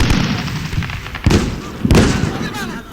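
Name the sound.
heavy machine gun fire in Combat Mission: Shock Force video game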